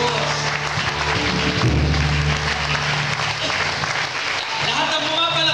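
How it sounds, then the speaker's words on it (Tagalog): Congregation clapping at a church anniversary gathering, a steady dense wash of applause filling the whole stretch with low music or droning tones underneath. "Lahat ng pumapalakpak niyan"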